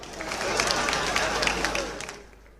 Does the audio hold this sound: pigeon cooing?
no